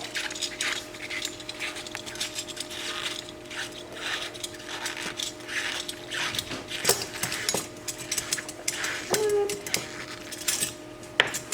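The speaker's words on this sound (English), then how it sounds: "the speculum doesn't fit, so we have to get it apart. So we're just going to unscrew this." A medical speculum being unscrewed and taken apart for an ultrasonic cleaner, giving close metallic clicks, ratcheting turns and small clinks over a faint steady hum.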